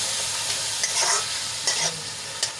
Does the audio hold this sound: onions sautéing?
yes